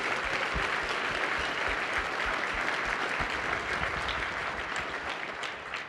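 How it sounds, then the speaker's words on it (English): Sustained applause from a large conference audience at SAINTCON 2025 honoring a sponsor, dense steady clapping filling the hall without speech. "Let's give them a round of applause."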